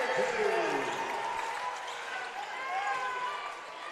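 Excited crowd noise at a girls high school basketball game between the East Ascension Lady Spartans and Prairieville, a broad cheering roar with clapping and sneaker squeaks while an announcer talks over it.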